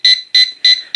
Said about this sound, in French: C'est un bip qui est énervant, je trouve.